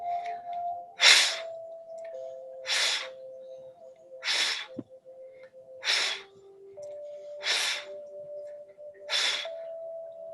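Deep breathing during a guided breathing exercise, six evenly spaced, strong breaths about every one and a half seconds, close and clear over a soft sustained background tone.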